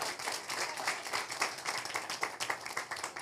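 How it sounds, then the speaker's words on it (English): Church congregation clapping at a Sunday anointing service, a brisk, steady patter of many hands held at moderate level throughout, with no talk over it. "You can clap better for them, everybody."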